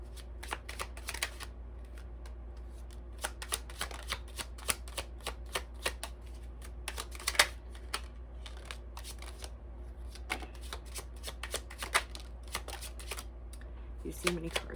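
Tarot cards are shuffled by hand in a steady run of crisp riffling flicks and snaps, close and fairly quiet over a low constant hum.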